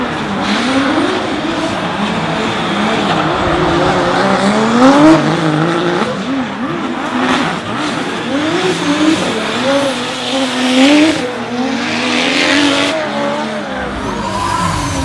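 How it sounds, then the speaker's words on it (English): An RB-engined Nissan Skyline and a Toyota 2JZ-powered Mazda RX7 drift together at a championship round in Auckland, engines wailing and revving loudly while the tires squeal and skid continuously. "Darren Kelly's RB Nissan Skyline took on Danum Templeman's Toyota 2JZ powered RX7"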